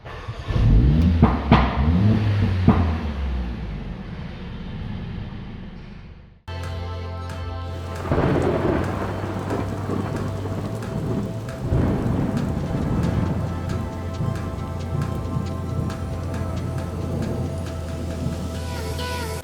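Mercedes CLA45s AMG engine starting in an underground car park, a loud echoing burst at ignition followed by a steady, reverberant idle rumble that continues to the end, with no talk.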